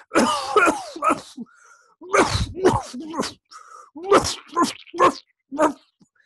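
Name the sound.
imitated cough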